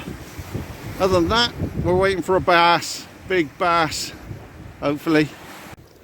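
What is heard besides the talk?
wind by the water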